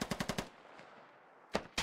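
Rapid burst of automatic gunfire in the military shooter game SquadOps, about five sharp shots in quick succession, then a quiet gap before two more loud shots near the end.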